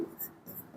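Chalk or marker strokes on a board during a maths lesson, a few short faint scratching sounds in quick succession.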